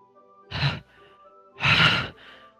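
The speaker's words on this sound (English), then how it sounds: "Sounds like breathing." Two heavy, breathy exhalations sound like sighs in Doki Doki Literature Club, separated by about a second, close and fairly loud over a faint steady tonal hum.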